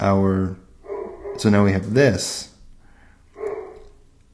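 Dogs bark in short bursts in the background while a man lectures over them, his talk mostly covering the barks.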